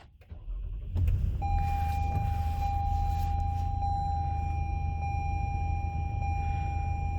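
A used car's engine cranks and catches after about a second, then settles into a steady idle with a sustained electronic warning chime running over the low, even hum.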